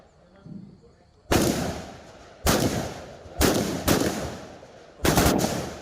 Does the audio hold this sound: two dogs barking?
no